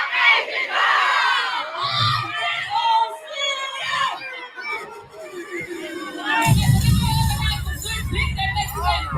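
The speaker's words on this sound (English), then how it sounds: "that's the crowd screaming out, fuck Asian Doll" A large crowd loudly screaming and chanting a profane insult at a live event, with overlapping shouts and cheering that swell into a dense roar toward the end.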